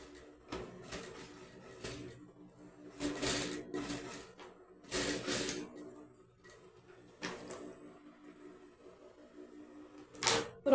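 Sewing machine stitching a crochet and fabric dress, quiet close mechanical bursts of rapid needle chatter separated by pauses, a few short runs and a final sharp clack.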